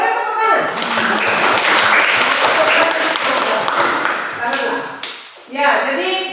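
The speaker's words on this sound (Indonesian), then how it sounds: "ya boleh tepuk tangan." Classroom students clap their hands in a dense, steady round of applause lasting about five seconds, with a teacher talking just before and right after.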